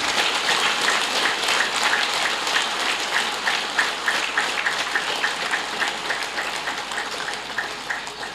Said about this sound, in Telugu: గట్టిగా చప్పట్లు కొడతాము